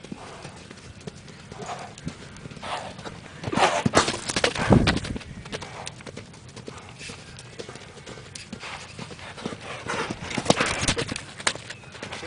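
Hooves clip-clop irregularly on the ground as a horse moves around, with louder bursts of stamping and a faint whinny.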